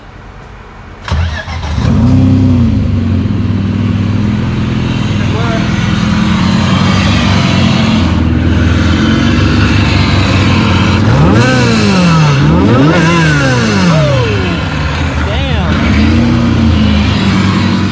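A supercharged car engine, newly fitted with pulleys, starts and then revs repeatedly in rising and falling sweeps, loud and close, with a voice talking over it.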